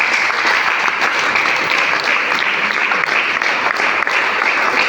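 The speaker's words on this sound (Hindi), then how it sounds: "एक बार इनके लिए जोरदार तालियां हो जाए" Loud, vigorous applause from a gathered crowd cheering for the working people among them, a thick continuous wash of clapping that holds steady for five seconds.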